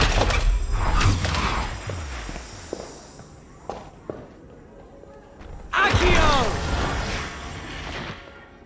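Depulso spell effect in the Harry Potter and the Order of the Phoenix video game on PS3, a burst of magical whoosh and impacts with thuds and clatter, loud at first, fading, then a second bright shimmering surge near the end.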